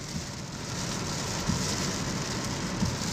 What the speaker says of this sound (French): je roule à l'île Maurice sous la pluie.